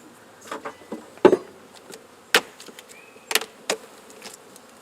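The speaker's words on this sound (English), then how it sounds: "This is not a lot of bees flying around" Honeybees buzzing at close range around an opened hive, with several sharp bursts and brief rises in the hum over a low, steady background.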